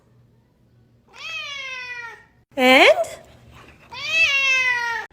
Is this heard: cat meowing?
yes